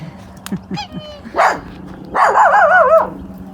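A Jack Russell terrier barks close and loud at a free campsite: a quick series of sharp yaps, then a higher bark and a long drawn-out whining, complaining howl.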